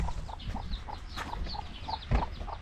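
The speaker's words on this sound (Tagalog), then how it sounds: "Ating pong mga manok." Chickens cluck in a barnyard, short repeated calls at a moderate distance over a faint background hum, with one louder knock near the end.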